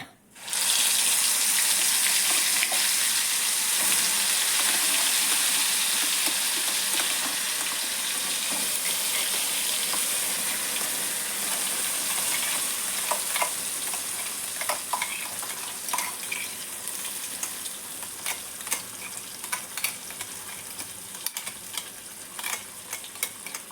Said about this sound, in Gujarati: ફ્રાય કરી લઈશું.